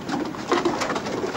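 Pigeons of an Army Signal Corps pigeon service cooing in a wartime loft, a steady murmur of soft overlapping coos with a few louder calls near the middle, no talking.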